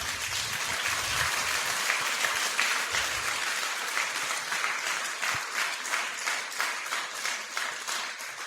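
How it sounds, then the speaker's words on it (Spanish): A church congregation applauds during a Spanish-language sermon, with dense, bright clapping from many people filling the room at a fairly loud, even level throughout. "un aplauso al Señor, Él se lo merece"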